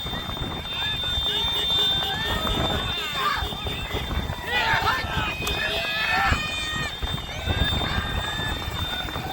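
Horses running in a rewal chal race at Dhanavada, Abdasa, Kutch, with steady hoofbeats and occasional whinnies under a busy crowd and commentary voices throughout.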